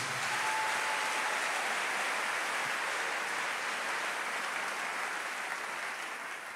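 A church congregation at an evening service claps and acclaims, a steady dense wash of applause at moderate distance that holds throughout with little variation.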